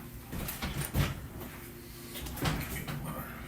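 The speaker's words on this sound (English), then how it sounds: "Stove open." An oven door on a stove opens with a few muffled thumps and clunks, a hinge-like knock near the start and another a moment later, fairly quiet against a faint room background.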